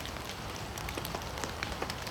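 Steady rain patters on a tarp over a camp, with a dense, even hiss and scattered sharper drops. Nothing else is heard over it.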